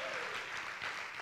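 A church congregation breaks into loud, steady applause for the Lord during a testimony service, a dense wash of many hands clapping at once, close and continuous without voices on top.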